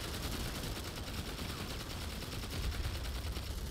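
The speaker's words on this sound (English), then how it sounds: "I just dumped my entire mag into you" Rapid, sustained automatic gunfire from a magazine being emptied in the PS5 shooter Planetside 2, a dense, loud, continuous rattle of shots filling the whole moment without a break.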